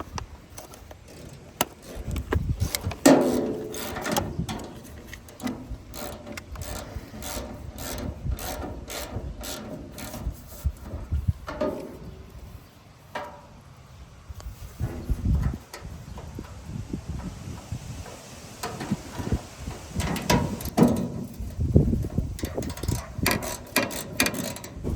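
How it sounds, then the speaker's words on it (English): A wrench works on bolts of an old hay swather, producing a steady run of close, loud ratcheting clicks and metallic turning noises that pause briefly partway through and then continue. "Is that where you're going to put these bolts in?"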